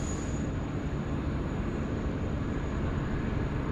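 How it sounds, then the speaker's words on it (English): An Airbus A380 airliner from Singapore lands at Sydney Airport with a broad, steady roar of engines and rushing air, loud and continuous throughout, with a thin high whine at the start. "Singapore 221, the A380 in from Singapore next to land."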